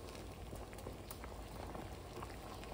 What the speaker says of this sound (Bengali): এই যে সব ফুটে উঠেছে খিচুড়ি